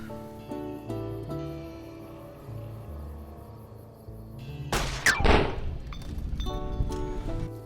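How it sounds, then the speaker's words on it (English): A single heavy scoped rifle shot booms in Fallout: New Vegas over a tonal game music bed, followed by a rumbling tail and lingering noise. "Using our new scope, we can accurately pick off the gangers waiting in ambush."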